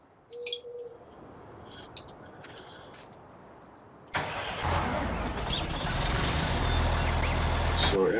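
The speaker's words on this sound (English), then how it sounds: "we need to drive this tractor" A tractor engine in Farming Simulator 19 starts up midway after a few faint clicks and knocks, then settles into a steady, loud mid-pitched rumble that continues to the end.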